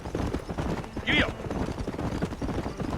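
Horse hooves clip-clop steadily in the Western video game Red Dead Redemption, an even trotting rhythm mixed with speech and other game sounds throughout.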